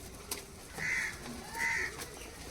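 Teddy pigeons in a loft give two soft cooing calls about half a second apart, close by and gentle against a quiet room background.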